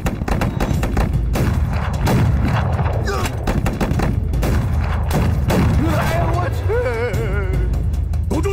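Mortar fire in a war film battle lands as dense, loud blasts and crackling gunfire across a field, while voices shout over the barrage.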